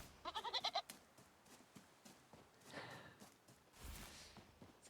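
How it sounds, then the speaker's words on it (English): A goat gives a short, rapid, pulsing bleat near the start, then only faint rustling, footsteps and breathy sounds follow at low level. "Come here, goat."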